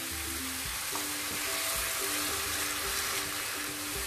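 Chopped tomatoes hit a pan already holding turmeric for sarson ka saag and set off a steady, close, continuous sizzle and crackle that holds evenly throughout, with no voices.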